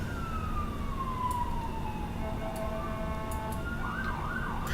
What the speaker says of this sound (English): Can you hear the siren out there?